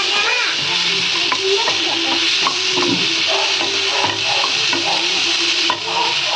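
One medium tomato sautéing in a pan for a simple chutney, a loud continuous sizzle with repeated scraping stirs of a spatula, close up.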